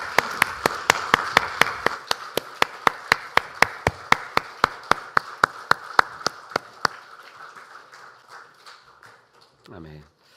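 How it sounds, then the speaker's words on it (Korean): A church congregation at a Sunday worship service claps in unison, about two dozen sharp, evenly spaced claps at a brisk steady rhythm, then the clapping thins out and fades. "하나님께 영광의 박수를 올려드리겠습니다"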